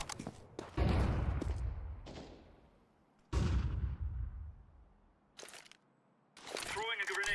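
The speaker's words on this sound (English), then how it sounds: "Throwing flashbang." A flashbang grenade goes off in Counter-Strike 2, giving sharp bursts with ringing tails, several loud blasts spaced through the stretch, and brief game voice chatter at the end.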